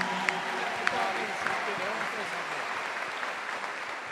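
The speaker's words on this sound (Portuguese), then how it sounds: "Uma salva de palmas" Audience at a religious gathering applauding visiting bishops, a sustained crowd clapping with scattered sharper claps and faint voices mixed underneath.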